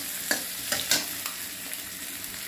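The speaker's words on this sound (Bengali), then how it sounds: "একটু গাজর আর শুকনো কাঁচা লঙ্কা একটু তেলে ভেজে নিচ্ছি" Finely chopped carrot and dried chilli fry in a little oil, giving a soft steady sizzle broken by a few light stirring scrapes, close by and with no voices.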